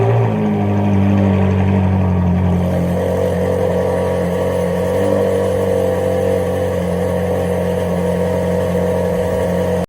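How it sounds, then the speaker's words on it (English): Ferrari 458 with a naturally aspirated V8 and straight-pipe exhaust, droning steadily and loud throughout with strong low harmonics, an even, sustained engine note with no talk. "The Ferrari 458 has a naturally aspirated V8 engine."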